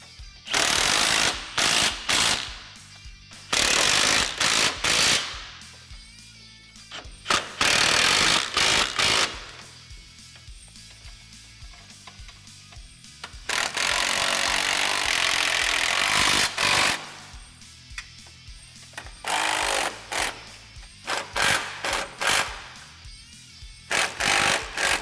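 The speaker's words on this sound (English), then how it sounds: "you're gonna go through and fully tighten all your hardware." Hardware on a Honda Talon 1000R front end brace kit is tightened with a power tool, which gives repeated loud bursts of mechanical whirring and rattling, separated by quiet pauses.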